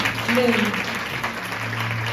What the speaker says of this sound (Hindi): हम जोरदार तालियों के साथ उनका स्वागत करेंगे